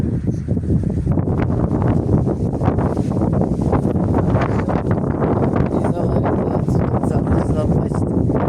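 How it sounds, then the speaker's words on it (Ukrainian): Strong wind buffeting the microphone with a constant loud roar and rustling throughout, and a voice faintly audible beneath it. "Дивіться, що робить вітер."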